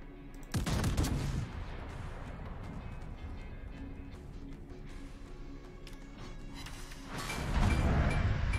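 Battleship main-gun salvos from the Japanese Tier IX premium battleship Tsurugi in World of Warships: a heavy boom opens, a rumbling roar follows, and a second loud salvo bursts near the end.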